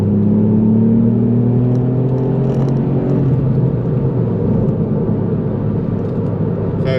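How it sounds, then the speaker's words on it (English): A 2021 Ford Fiesta ST Mk8 engine rumbles loudly and steadily, its pitch rising then settling as it revs, with a deep exhaust drone throughout and no talking. "So yeah, nice exhaust sound."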